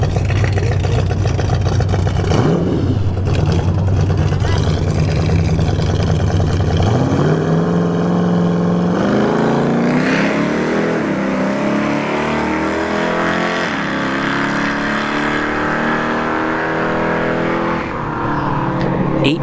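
A first-generation Pontiac Firebird roars down a drag strip at a test-and-tune session, its engine loud and steady, then shifting gears with rising revs after each change, continuous and close throughout.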